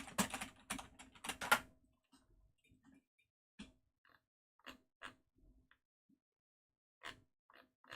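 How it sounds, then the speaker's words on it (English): Loud computer keyboard typing, with a dense burst of rapid clacking keystrokes at the start, then scattered single key clicks and short clusters separated by silence, close and clear with no talking. "My keyboard's so fucking loud."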